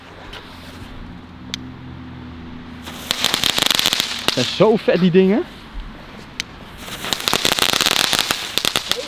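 Rapid crackling firework bursts from a large multi-shot tube pop in dense clusters, loud and close, with people talking and exclaiming between the volleys.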